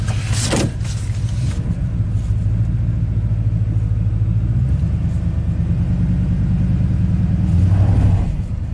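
A rebuilt Ford big block V8 idles roughly, its low rumbling engine note loud and close with an uneven, shaky pulse and slight rises in revs, alone without talking.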